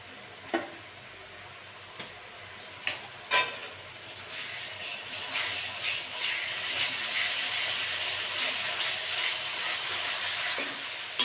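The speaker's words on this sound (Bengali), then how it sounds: "আমি এবার আদা রসুন বাটা দিয়ে দেবো।" A few sharp spoon taps on the pan precede ginger-garlic paste hitting frying onions and green chili for a potato chicken curry, then a close sizzle swells and holds steady with light stirring, no voices.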